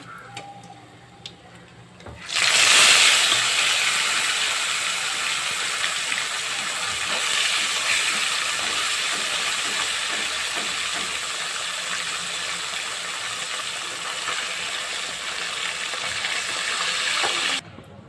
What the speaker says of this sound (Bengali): এরকম করে বাকি মাছটাও ভেজে নিচ্ছি